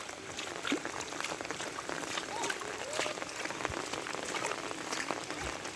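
Steady rain falling during the monsoon season in Dhobaura, a dense continuous hiss with scattered drips and patters nearby, moderately loud throughout with a faint background murmur.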